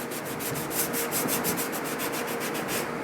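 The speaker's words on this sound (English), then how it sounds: "I'm going to sand this whole helmet before I reprime it" Sandpaper worked over a primed Biker Scout replica helmet in steady rhythmic strokes, a close, continuous scratchy rasp with regular back-and-forth pulses and no talking.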